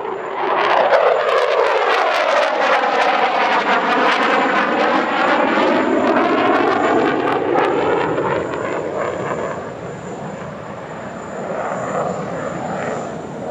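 An F-16 fighter jet flies past at the Dubai Airshow with a loud, sustained engine roar that sweeps in pitch as it passes, then fades to a lower rumble.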